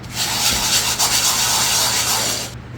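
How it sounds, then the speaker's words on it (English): Chainmail and coarse salt scrub a cast iron pan in a loud, close, continuous gritty rasping with slight back-and-forth swells, stopping just before the end, with no voice. "I have filled it with salt, coarse salt, and I'm going to use this chainmail"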